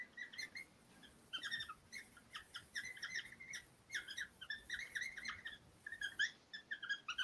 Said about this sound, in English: Hear the squeaking? Makes a little squeak, doesn't it?